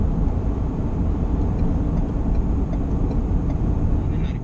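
A 2023 Ford Ranger Wildtrack 205 HP pickup carrying two people and a nearly full tank pulls hard on the road, its engine a dense, steady low rumble heard from inside the cab.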